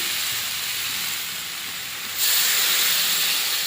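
Water poured into a hot pan of potato, eggplant, bitter gourd and shrimp curry cooked village style produces a loud, steady steamy hiss that suddenly swells brighter midway and continues sizzling, with no talk.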